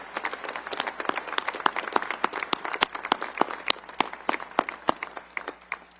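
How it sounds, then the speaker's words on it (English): Audience at the US Air Force Academy Class of 2023 graduation clapping in applause, a sparse field of sharp individual claps with uneven rhythm, moderately distant and thinning out, no talking. "how about a round of applause for the entire village that brought these cadets to where they are"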